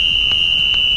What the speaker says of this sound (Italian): mi asistente Samuel, póngame el timer